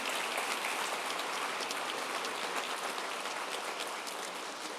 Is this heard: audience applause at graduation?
yes